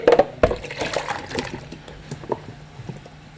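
Water pours into a bowl for washing yams, a short splashy rush at the start followed by lighter trickles and clinks, fairly close, with no talk.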